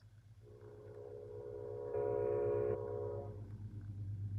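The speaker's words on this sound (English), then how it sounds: "I don't mind living by the train." A train passes near a house, its horn sounding a sustained, rising tone over a continuous low rumble of wheels and engine that swells toward the end.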